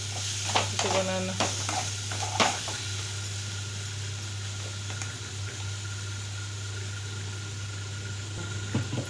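Onions and tomatoes with salt fry in a pan for a mushroom curry, a steady close sizzle broken by a few scraping stirs early on. A low constant hum runs underneath.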